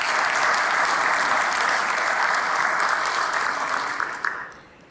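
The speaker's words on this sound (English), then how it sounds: "Just a round of applause for that." Sustained audience applause at a talk about a program director and commission member, loud and even throughout before fading out at the end.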